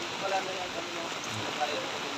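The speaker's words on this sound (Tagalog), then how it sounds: "Lakas ng ulan, mga Kalingap." Heavy rain pours down steadily, a dense continuous hiss of drops drumming on surfaces with no break across the short stretch.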